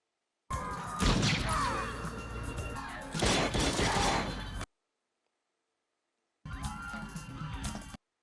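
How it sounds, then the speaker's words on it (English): Loud, dense gunfire erupts in a 1990 action film, with rapid volleys crashing over each other in two long bursts separated by a sudden silence. "Oh, listen to the gunfire"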